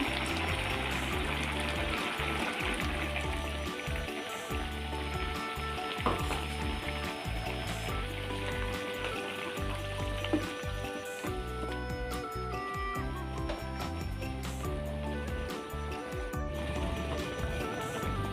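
Ground coconut and cashew paste pours into a pan of cooked potato kurma, giving a steady, loud sizzle and bubbling that runs throughout.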